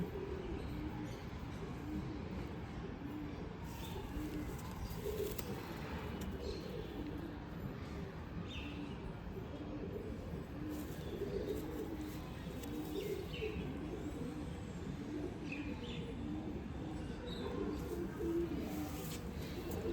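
Pigeons kept for sale in Bangalore coo softly and continuously, with a few faint chirps over a low background hum.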